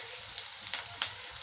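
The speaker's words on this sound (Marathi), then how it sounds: "थोडासा छान तळून घेतला कांदा," Onion frying in hot oil in a home kitchen, a steady faint sizzle with a couple of brief louder crackles, no voices.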